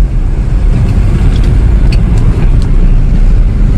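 A 2002 Toyota Kijang LGX 2.0 EFI runs just after a gear change, heard from inside as a loud, steady low engine drone with road rumble and a few light clicks and knocks, with no talking.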